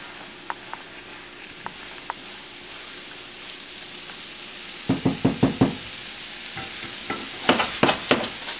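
Breakfast food cooking in a pan for a New Year's family meal, a soft background sizzle with occasional clicks and a few bursts of sharper knocking or stirring clatter near the end.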